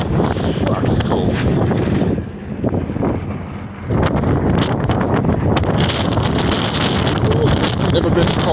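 Snow-blizzard wind at minus 10 Fahrenheit buffets the microphone in loud, roaring gusts, briefly easing in the middle before surging back.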